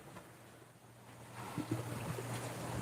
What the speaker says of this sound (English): We're sailing to the Solomon Islands.